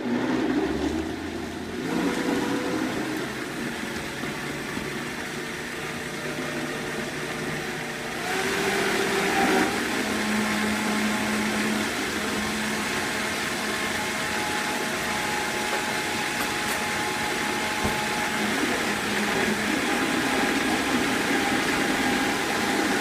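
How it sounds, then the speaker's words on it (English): Vitamix blender whirring through raw pumpkin and red pepper soup, a loud, steady motor drone that rises in pitch and strength partway through and then holds without pause. "So let's get this on the blend and see how it does"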